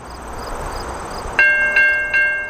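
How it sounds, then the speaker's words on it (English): A VIA Rail Canada passenger train led by an EMD F40 locomotive rumbles past, then its horn blasts three loud, sustained chords in quick succession over the rolling rail noise. "the most significant EMD locomotive of all, the F40, and its last great employer"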